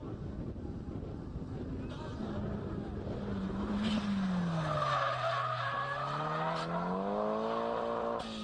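A drift car skids with a blown tyre at the start of a drift battle, giving a loud sustained tyre squeal that bends in pitch over roaring engine noise, continuous throughout.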